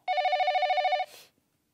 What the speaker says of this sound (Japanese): 電話鳴ってますけど。